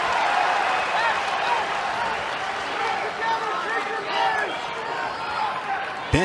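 A college wrestling crowd at an Iowa vs Ohio State dual meet cheers and claps, a broad, continuous roar of voices and applause filling the arena, with a commentator speaking over it.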